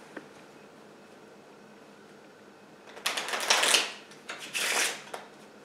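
A blue deck of playing cards is shuffled close up, two bursts of rapid riffling flutter after a quiet start, crisp and fairly loud.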